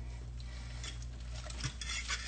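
Six quail eggs being scrambled in a bowl, quiet rubbing and scraping of a utensil against the bowl, soft and close, with a few slightly louder strokes toward the end.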